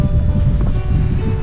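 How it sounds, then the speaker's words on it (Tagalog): Strong winter storm wind in Canada roars against the microphone in a dense, low rumble, steady and loud for the whole short stretch. "Hindi lang kita pero ang lakas ng hangin."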